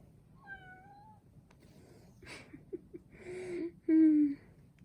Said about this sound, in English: I'm pretty sure the reason that she's meowing is because I am talking